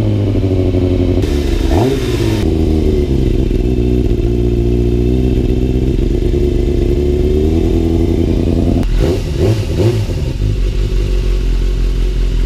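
A Yamaha YZF 600 Thundercat motorcycle engine warms up on choke, a loud, steady, throbbing idle close by with a couple of brief blips of the throttle along the way.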